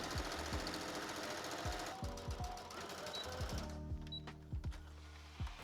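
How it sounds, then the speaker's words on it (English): A sewing machine stitches dress bodice pieces in steady mechanical bursts, its rapid needle clatter running continuously and close, with brief pauses and restarts. "we're repeating this step with all of like the front and back pieces"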